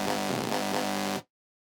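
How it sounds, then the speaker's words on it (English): A harsh, buzzy synth tone distorted by a Fruity Distortion plugin holds for about a second with a slight pulsing texture, then cuts off abruptly into silence. "how I got it to sound like this is just a fruity distortion unit again"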